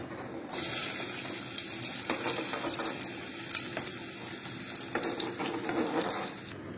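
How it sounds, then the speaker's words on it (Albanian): Onion sizzles as it fries in a pan, making a steady hiss with small crackles and a few louder stirring scrapes. The sound holds fairly even throughout and is fairly close. "Tani qepa është gati, e vendosim në një tigan për të skuqër."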